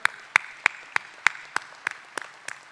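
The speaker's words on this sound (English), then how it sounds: "So I want to give a big round of applause to all of you and to all the laureates for this 2024." Applause at a peace prize award ceremony comes as sharp, evenly spaced claps in a steady rhythm, moderately loud and close, over a faint room background with no speech.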